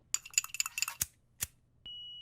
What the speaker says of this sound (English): To start the beat off, I added some Benji Cold type perks that sound like this.